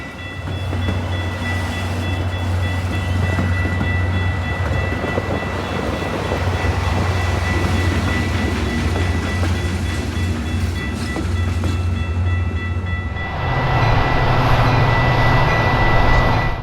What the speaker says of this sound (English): an inbound being led by a cab car came across Clinton Street